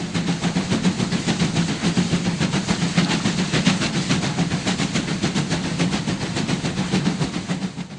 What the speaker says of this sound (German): Schließlich erreicht der Dampfsonderzug Sigmaringen an der Donau ebenfalls eine einstige Hohenzollernresidenz.